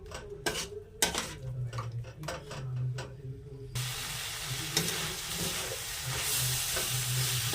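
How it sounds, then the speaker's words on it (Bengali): A spoon scrapes and clatters through fried potatoes in a pan, a few distinct knocks at first, then a steady sizzling hiss as the stirring continues. "ভেজে রাখা আলুগুলো দিয়ে দিয়েছি এবার ভালো করে নেড়ে নেবো আবার"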